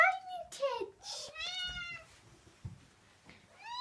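Kitten meowing repeatedly at close range, a series of high, bending cries with short pauses between them.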